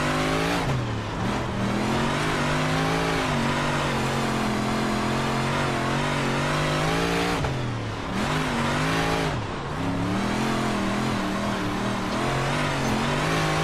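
Dirt track race cars in iRacing, engines roaring loud and close at sustained high revs, the pitch dipping and climbing again twice as the cars lift off and accelerate back through the corners.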